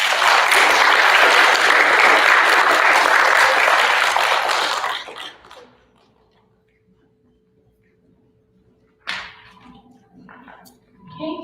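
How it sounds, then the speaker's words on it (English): Audience applause fills a school awards assembly for fourth graders, loud and dense for about five seconds before fading into near silence, followed by brief faint sounds near the end. "So give yourselves a round of applause."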